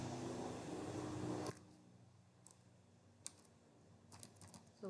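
Code typed on a computer keyboard, a few light key taps that are quiet and close, scattered after a brief burst of broadband noise.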